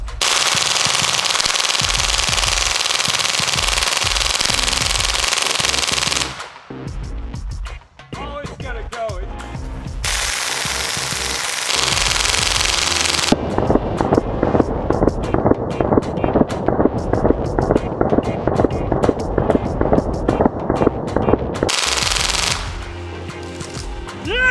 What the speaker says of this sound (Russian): Инструктор по стрельбе Дастин Эллерман решил посмотреть, можно ли с помощью такого оружия срубить дерево